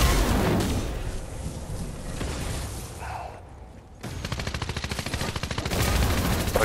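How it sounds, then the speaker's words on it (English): Gunfire in the video game Fortnite: dense bursts of rapid automatic shots fill most of the clip, pausing briefly near the middle before a fast, evenly spaced volley resumes, loud and close. "Yeah, and I'm shooting him"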